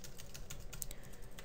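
Quick, dense keystrokes on a computer keyboard while entering Java code, a close, steady run of clicks with no pauses and no talk.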